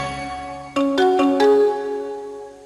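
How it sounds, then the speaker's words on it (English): The Intel Inside audio logo, a short chime-like jingle of a few bright struck notes over a sustained tone, rising in quick succession and ringing out clearly on its own. "So you can actually hear it say Intel inside through that note choice"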